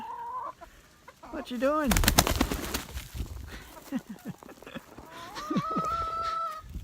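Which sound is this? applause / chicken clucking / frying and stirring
chicken clucking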